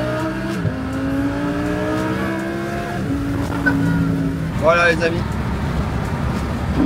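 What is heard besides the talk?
Lamborghini Huracan V10 engine revving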